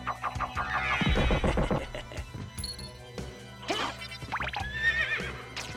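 A horse whinnies in the Castlevania: Symphony of the Night video game, a bright synthesized neigh rising over game music and effects, with clinking and other chimes following; no speech.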